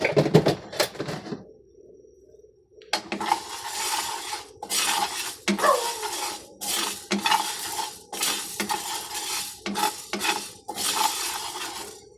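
Mung beans stir-fried dry in a pan, stirred in repeated scraping, rattling strokes with brief pauses between them, close and clear with no voices.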